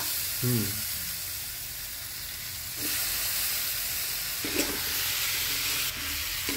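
Brinjal sizzling in a hot pan with turmeric and flour, a steady frying hiss with a few louder bursts as pieces are stirred, while someone talks in the background.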